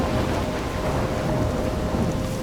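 A thunderstorm with heavy rain in the video game Life is Strange, a steady loud wash of pouring rain under a deep continuous rumble of thunder.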